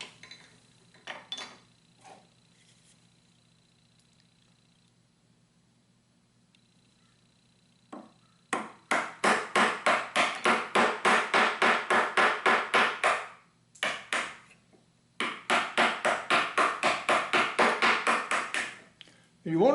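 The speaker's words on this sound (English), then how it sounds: "So we're going to remove this excess wood here with our carving tools." Hand carving tools pare excess wood from a block in rapid, evenly spaced strokes. After a quiet start come two long runs of crisp scraping, separated by a brief pause.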